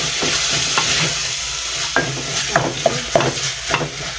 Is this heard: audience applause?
no